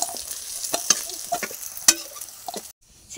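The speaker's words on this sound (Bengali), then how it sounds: "দেখুন মাছগুলোকে একটু কড়া কড়া করে ভাজতে হচ্ছে।" Fish frying crisp in hot oil, a busy crackling sizzle with stirring scrapes and small pops, cutting off to near silence before a final rustle.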